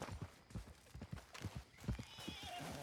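A horse in Red Dead Redemption 2 snorts and whinnies amid soft clip-clop hoof steps, fairly quiet and close, with a faint ambient game background throughout.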